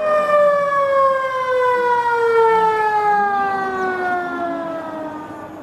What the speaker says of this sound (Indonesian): lihat ini ada mobil pemadam kebakaran